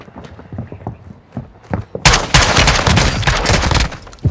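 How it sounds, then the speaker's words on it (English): Heavy automatic gunfire erupts suddenly in a Call of Duty Warzone match on Ashika Island, loud and continuous bursts after a quieter stretch of scattered thumps and footsteps. "You are taking effective fire."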